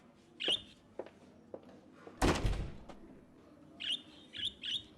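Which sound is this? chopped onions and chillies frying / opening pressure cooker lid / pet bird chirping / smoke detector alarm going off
pet bird chirping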